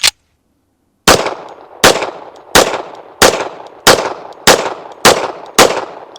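A Colt 1911 competition series pistol fires CCI Blazer ammunition outdoors, eight sharp, loud shots in a steady rhythm roughly two-thirds of a second apart, each with a short ringing decay, after a lone earlier report.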